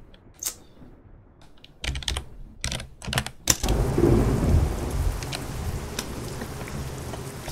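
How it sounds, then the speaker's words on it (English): Steady rain hisses in a ProMods truck driving game, starting soft and swelling into a dense, continuous downpour, with a few sharp clicks and thunder-like rumbles scattered through the first half. "Still raining here."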